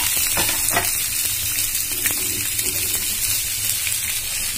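Onions fry in a pan with a loud, steady, close hiss of sizzling oil, broken by a few faint spatula taps, with no one talking.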